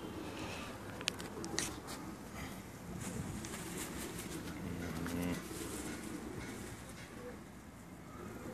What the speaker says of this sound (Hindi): आप मेरे कैमरे की स्क्रीन पर जो कबूतर देख रहे हैं